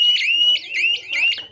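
A GSM shutter siren alarm wails in loud repeating electronic sweeps, three close cycles of a rising warble, sounding alone without talk.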